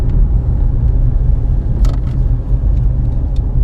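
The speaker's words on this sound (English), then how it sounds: "This bit of off-roading's hard going." A vehicle grinds slowly over rough off-road ground on Salisbury Plain, giving a steady low engine rumble with occasional brief rattles and knocks throughout.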